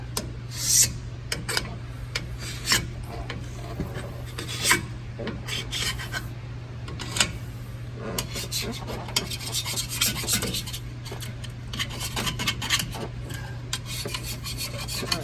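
A Matco Tools scraper rasps steadily against a differential cover caked with old silicone, close and alone, with repeated harsh strokes and brief louder scrapes over a constant low hum.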